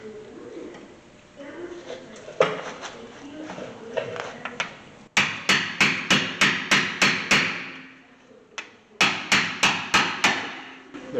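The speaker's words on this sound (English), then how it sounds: "I'll have to get an impact screwdriver" A hammer strikes an impact screwdriver on the brake screws of a 2013 Hyundai Santa Fe, two quick runs of sharp evenly spaced metallic blows after quieter fumbling, with birds faintly in the background.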